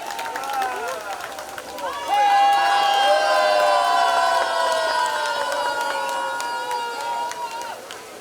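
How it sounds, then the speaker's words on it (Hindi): A crowd cheers, whoops and shouts to welcome MLA Amit Satam at a public clean-up event. The noise swells to a loud, sustained roar and then slowly tapers. "जोरदार तालियों से स्वागत कीजिए"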